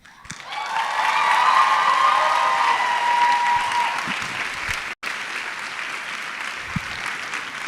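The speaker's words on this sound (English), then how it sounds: "Let's give a round of applause to David Diggs" A university audience gives a sustained round of applause with a few cheers for Daveed Diggs, dense clapping that swells and then thins out over several seconds.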